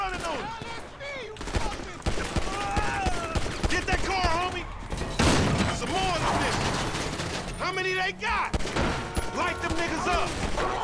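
Gunfire rattles through a Grand Theft Auto 5 shootout, rapid bursts and single shots mixed with game effects and music, while someone talks over it.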